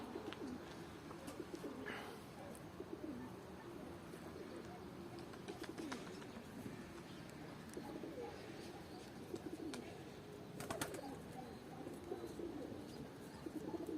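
Soft coos of Turkish tumbler pigeons repeat through a steady outdoor murmur, with faint chirps and occasional brief clicks; a voice is heard quietly in the background.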